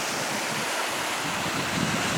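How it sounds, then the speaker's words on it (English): Rain-swollen water churns out of an overflow on a countryside walk near Littleborough, a steady broadband roar with gusty wind buffeting the microphone and no voices. "that's obviously an overflow, which is churning out quite a lot of water"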